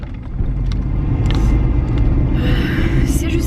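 Low steady engine rumble heard from inside a car at night, constant and close, with faint small rattles and hiss over the drone.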